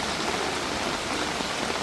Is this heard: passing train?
no